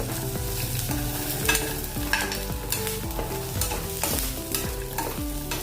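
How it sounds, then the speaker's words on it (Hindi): Steady sizzling of curry leaves frying in hot oil, with a spoon scraping and stirring rhythmically around the pan throughout. "अब इसमें हम कड़ी पत्ता डाल देंगे और उसे मिक्स कर लेंगे।"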